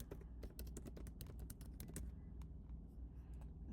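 Someone types an email address on a computer keyboard, producing a quick run of crisp, close key clicks in an uneven rhythm that thin out toward the end. No one speaks.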